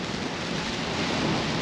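Rain and wind on Chesil Beach, a UK shore, make a dense, steady hiss of rainfall and gusting air with no voices.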